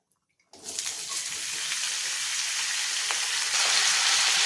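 Potato, carrot and bean slices dropped into a little hot oil in a pan give a sudden loud sizzle that holds steady and close throughout, with no talking.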